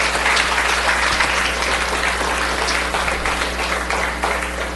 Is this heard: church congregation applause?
yes